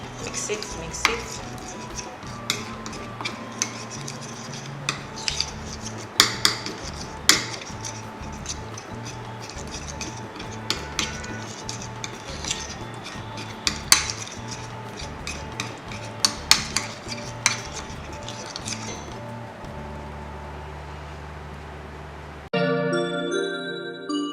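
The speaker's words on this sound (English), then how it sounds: "we have all our mixture together, so just go ahead and mix it" A homemade dry skin remedy mixture is stirred in a bowl, with repeated clinking and scraping of a utensil against the container in an irregular rhythm, close and clear, ending with a brief change in texture near the end.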